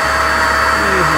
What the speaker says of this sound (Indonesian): ini kita pakai mesin vakum yang portable. Langsung vakum.